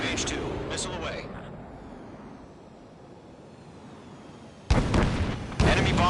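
Missile launch and blast in the combat flight game Ace Combat 7, heard at the start with a descending whoosh over speech-like radio chatter, then two loud, abrupt explosive bursts near the end.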